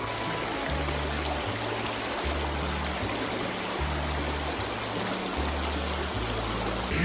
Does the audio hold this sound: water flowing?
yes